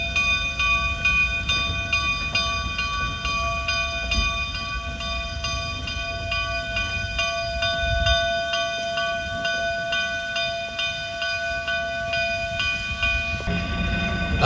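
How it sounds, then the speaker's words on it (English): A narrow gauge steam locomotive being prepared in a rail yard idles steadily with a continuous hiss and low rumble, steady mechanical tones hanging over it, fairly loud and close throughout. "I wanted to get some shots of the locomotive being prepared"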